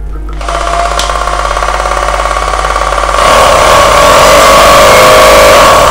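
A Bosch 220V electric drill, a Japanese domestic-market model, runs with a loud, steady motor whine that climbs to a higher, harsher pitch partway through as it speeds up.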